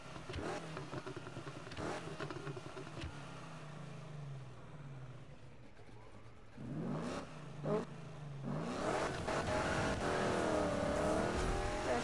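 A 1965 Mustang GT in a racing video game holds a steady engine drone, then brakes hard from high speed as the pitch drops, and the engine revs up again at the end.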